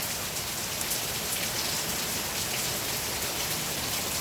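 Steady, dense rain pours down without pause in a parking lot, a constant hiss of drops striking a hard surface nearby.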